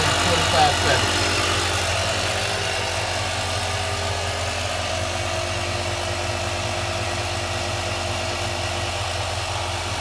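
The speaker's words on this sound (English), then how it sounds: "I got the compressor set for 30 or 31 PSI" A Ryobi 18V cordless air compressor runs continuously close by while inflating a trailer tire, giving off a steady buzzing motor drone with a faint rattling vibration that never lets up.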